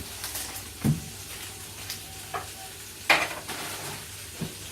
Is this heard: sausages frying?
yes